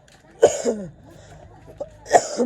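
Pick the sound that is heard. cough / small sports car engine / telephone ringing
cough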